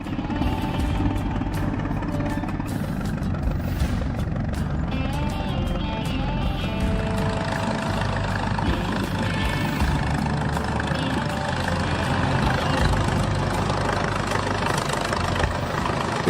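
A Holt 5-ton tracked tractor engine running, a continuous loud, rough mechanical drone with low rumbling and clattering knocks, steady for the whole stretch with no voices.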